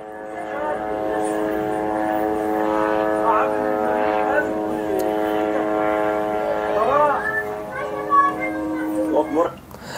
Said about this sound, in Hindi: कैसे ड्रोन गुजर रहा है